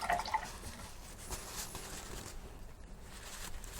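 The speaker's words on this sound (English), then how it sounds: "And we'll put that down and we wash our brush." Paintbrush rinsed in a water pot after acrylic painting, soft close sloshing, dripping and faint swishing, quiet and steady throughout.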